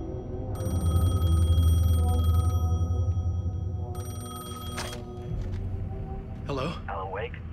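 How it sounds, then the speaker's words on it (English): A payphone in the video game Alan Wake II rings in two long electronic bursts over a low droning hum, with a voice heard near the end. "The payphone was ringing."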